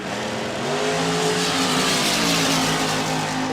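A dragster launching down a drag strip at a race meet, a loud, sustained engine roar rising in pitch as it accelerates away.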